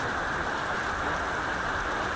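Monsoon rain falls on a Phnom Penh market in a dense, steady hiss of drops pattering on surfaces, close and continuous without talk.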